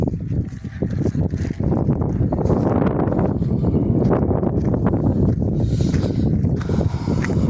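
Strong wind roars steadily into the microphone over a vegetable garden, a loud continuous rumble with rougher gusts throughout and no voices.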